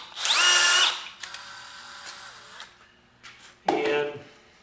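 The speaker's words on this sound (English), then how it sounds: "I got the drill in here." A power drill whines loudly at full speed for about a second, then runs lower and steadier while a bit bores into material, and revs up again near the end, close by with no voices.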